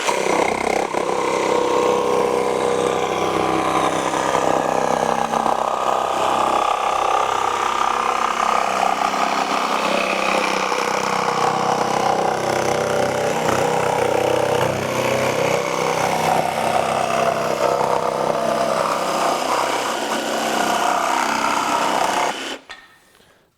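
A Ryobi 18V ONE+ HP brushless jigsaw (PBLJS01B) cuts thin wood, a loud, steady buzzing whine with rapid blade chatter running continuously for about 22 seconds before stopping abruptly.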